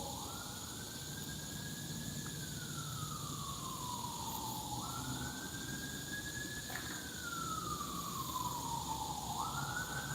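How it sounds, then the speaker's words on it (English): A wailing siren rises and falls in slow sweeps, distant and steady, with a constant low background hum. "You guys probably can hear the sirens in the background."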